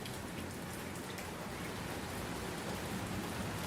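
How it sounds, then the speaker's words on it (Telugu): Steady evening rain pours down without a break, a dense even hiss of drops striking surfaces at close range with no voices present. "సో సాయంత్రం వేళలో వర్షం పడింది."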